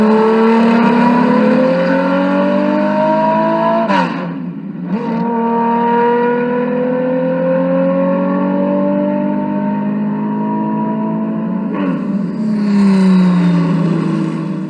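Red Ferrari sports cars at the Vortex, engines revving loudly and steadily up and down close by, with a brief drop in pitch midway.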